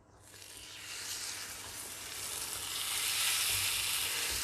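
Oyster blade steak sears in a hot pan, a loud, steady hiss of sizzling fat that swells quickly and holds strong and close for the whole stretch.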